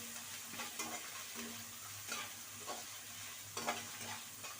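Ginger garlic paste frying in oil in a pan, a soft continuous sizzle with a few brief stirring scrapes and clicks spread through, fairly quiet, no talking.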